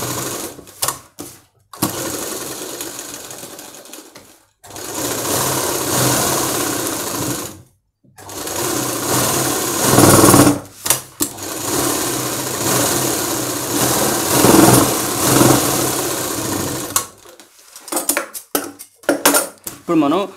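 A sewing machine runs in bursts of steady rapid stitching while sewing the back part of a maggam work blouse, stopping briefly between runs. Someone talks over parts of it.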